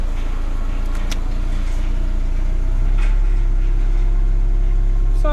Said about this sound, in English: I see the compressor is spinning.